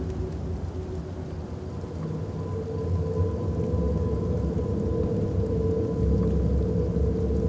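Heavy rain pours steadily with low rolling rumble of thunder in the video game Fears to Fathom: Carson House, a loud dense wash that swells slightly partway through.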